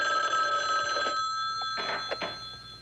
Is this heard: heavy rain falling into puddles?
no